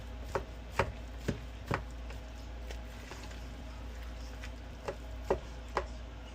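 A breakfast burrito filling of steak and bacon is stirred by hand, making irregular sharp taps and clicks of the utensil against the bowl. The taps come in scattered bursts over a soft background hum.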